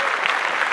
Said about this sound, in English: I'm gonna put the applause.